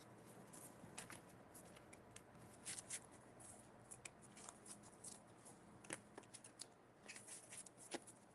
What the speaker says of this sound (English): I'm gonna shuffle one more time.